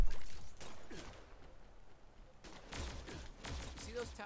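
Gunfire in the video game G.I. Joe: Operation Blackout, with sharp shots and short bursts in two clusters at the start and end, a quieter gap between them, and some voice sounds mixed in.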